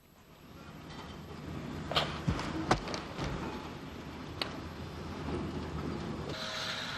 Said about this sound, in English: Drumbo heads her goods bound for Strabane out of Stranraer